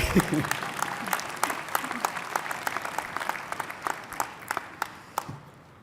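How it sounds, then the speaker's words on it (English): Graduates at a university commencement ceremony applauding, many hands clapping in a steady roar with sharp individual claps standing out, tapering off toward the end. "you can applaud yourselves, I'm applauding you"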